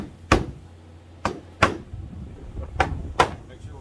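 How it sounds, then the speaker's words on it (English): A dead blow hammer knocks a wooden panel down into its groove on a rustic kitchen hood build, with five sharp, solid thuds spaced irregularly and close by, with no talking. "I got a dead blow hammer. We're going to knock that right on down until it bottoms out."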